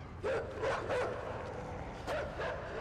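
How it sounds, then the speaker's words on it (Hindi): Dogs in the video game Inside bark about four times, short and muffled, at a moderate distance over a low ambient hum. "मुझे लग रहा है कुत्ते सूंघ लेंगे इसे"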